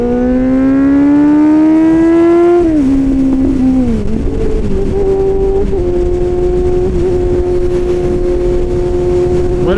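A motorcycle fitted with an SC-Project exhaust rides along a highway, the loud, close engine note rising steadily in pitch, dropping with a gear change, then settling into a sustained high cruising drone.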